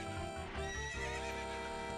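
A horse in Zelda Ocarina of Time whinnies over the clip-clop of its hooves, a close, bright neigh with a steady clopping rhythm underneath.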